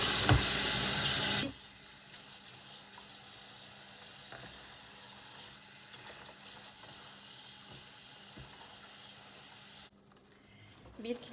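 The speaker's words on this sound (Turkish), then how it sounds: "Ama şu anda bu yeşillikleri yıkıyorum" Steady rush of tap water running into a kitchen sink while lettuce and greens are washed, a continuous hiss at moderate level after a louder opening burst, fading quieter near the end.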